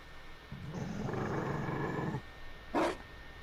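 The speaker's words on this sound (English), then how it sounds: "You found a dog." A Mabari war dog in the video game Dragon Age: Inquisition lets out a drawn-out growling bark lasting over a second, then a short sharp yelp, moderately loud and with no talk over it.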